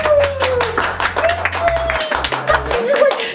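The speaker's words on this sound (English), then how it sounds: "Should we clap?" A few people clap briefly on a green-screen film set, scattered hand claps mixed with chuckles while voices talk over them.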